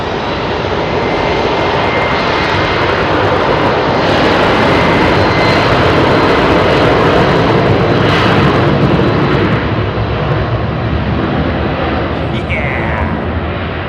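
A jet airliner climbs away from Heathrow Airport at night, its engines giving a loud, sustained roar that fills the whole stretch, with voices talking over it.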